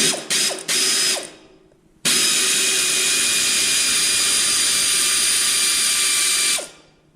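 Rapid mechanical ratchet clicking while tightening a part on an Anna combine harvester, in a few short bursts, then one long continuous whirring ratchet run lasting several seconds, close and loud with no talking.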